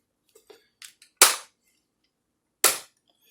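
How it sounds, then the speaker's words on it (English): The ratchet leg joints of a Jurassic World Dino Rivals Bite 'N Fight Tyrannosaurus Rex toy give a few faint ticks, then two loud, sharp, close clicks about a second and a half apart. "legs do have that ratchet joint"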